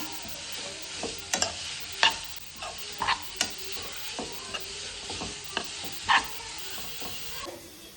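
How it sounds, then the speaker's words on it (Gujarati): Grated beetroot roasting in a pan for beetroot ladoo gives a low sizzle, broken by repeated sharp scrapes and clinks of a spoon against the pan as it is stirred. "બીટને શેકવાનું છે. આવી રીતના શેક્યા બાદ"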